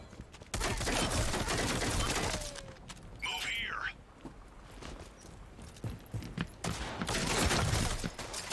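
Shotgun fire in the video game Rogue Company, heavy loud blasts and busy combat noise throughout, with a gap around the middle and talk mixed in among the shots.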